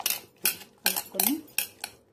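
A spoon mixes salt into a raw moong dal chutney, no-cook Andhra style, striking the bowl in about six sharp, close clinks at an uneven pace with quiet gaps between them.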